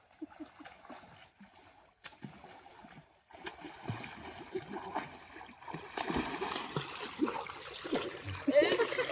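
Villagers splash through water in a village swimming race, choppy bursts that grow denser and louder toward the end, with voices calling over the churn.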